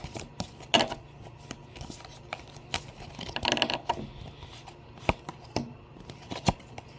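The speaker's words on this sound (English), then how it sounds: "Shuffle these a little bit" Tarot cards being shuffled by hand, with repeated crisp snaps and riffling rustles at an irregular rhythm, close and fairly loud, with no talking.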